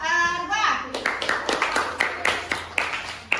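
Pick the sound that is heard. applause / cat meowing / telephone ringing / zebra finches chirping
applause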